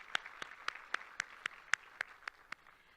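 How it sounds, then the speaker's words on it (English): At a Miss Cherokee and Junior Miss Cherokee competition, faint, evenly spaced claps ring out at a steady slow rhythm, about a dozen sharp hand claps sounding distant and sparse. "Let's give them all a round of applause."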